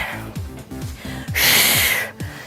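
Forceful exhalations during a full-body exercise circuit, one hard breath-out standing alone and loud for about half a second amid quieter rhythmic breathing, with a voice's low tones weaving underneath.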